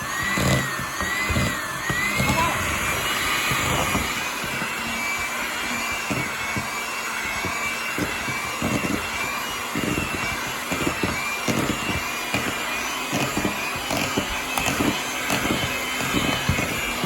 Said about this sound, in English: we're going to use our hand mixer to mix them up and make them smooth